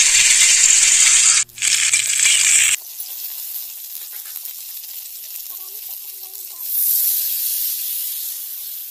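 Crab claws drop into hot oil with tempering spices, giving a loud, harsh sizzling hiss for a few seconds that cuts off abruptly, followed by a much quieter bubbling and a faint hiss returning later.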